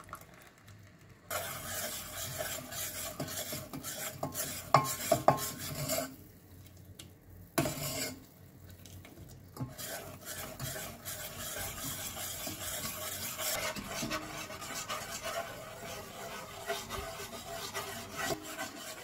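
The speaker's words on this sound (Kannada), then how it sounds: "ಈ ಥರ ಗಟ್ಟಿ ಆದಾಗ ಹೀಗೆ ಸ್ಟವ್ ಮೇಲಿಂದ ಒಂದು 2 ನಿಮಿಷ ತೆಕ್ಕೊಂಡು ಈ ಥರ ಉಜ್ಜಿ ನೋಡ್ತಾ ಇರಬೇಕು" Thickened red rock sugar syrup, just off the stove, is stirred and rubbed against the pan to make sugar figurines, giving a steady close scraping rasp that drops out briefly twice before resuming.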